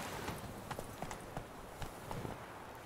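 Roach the horse trots along in Witcher 3, hooves clip-clopping in a quick, fairly regular rhythm, soft and close with a light background bed.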